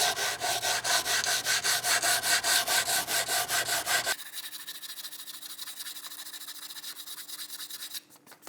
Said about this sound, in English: tip your finger against the edge of the wood, and that'll prevent you from sanding any deeper